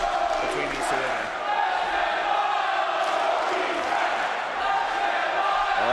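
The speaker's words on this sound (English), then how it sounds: "The crowd are really showing their appreciation for what they're seeing tonight between these two women." A wrestling arena crowd cheers and roars in a sustained wash of voices during a women's match, loud and continuous with swelling shouts.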